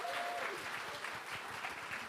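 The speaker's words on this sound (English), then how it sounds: "can we give them all a little round of applause for what they've done?" Steady round of audience applause at a TikTok creator event, fairly soft and distant-sounding, continuing evenly throughout.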